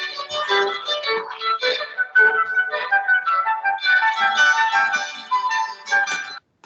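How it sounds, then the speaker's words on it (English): A Bach piece for flute and violin plays steadily, a lively dance-like melody with clear sustained tones and quick ornamented phrases, loud and continuous before cutting off abruptly near the end. "And this is Bach's most famous piece,"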